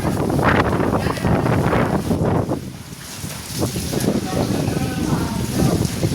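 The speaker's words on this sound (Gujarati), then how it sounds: "એટલો પવન છે અને વરસાદ એટલો આવે છે" Strong gusting wind buffets the microphone in loud surges, with rain hissing steadily in the background between gusts.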